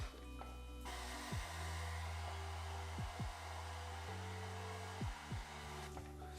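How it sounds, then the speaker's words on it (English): A hair dryer on low heat blows over glued-on hair, a steady close whirring drone that runs nearly the whole time with a few brief dips and pitch shifts as it is moved or adjusted. "using very low heat to dry it off"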